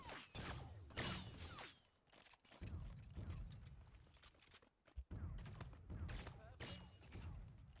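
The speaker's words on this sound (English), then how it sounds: "you're shooting at this person" Rapid bursts of gunfire in the sci-fi shooter game Cyber Hunter, dense crackling volleys and single shots in quick succession, loud and near, with a brief lull midway before the firing resumes.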